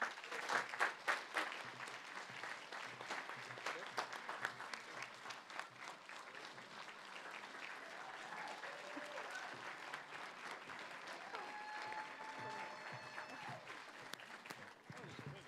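Audience applause at a Prince George's County state's attorney event, loud and dense at first with broadband clapping, then thinning into scattered claps and crowd noise, with faint voices and tones near the end.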